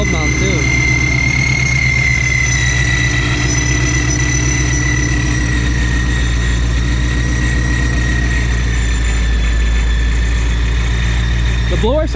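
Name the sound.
supercharged car engine with ESS G3X blower running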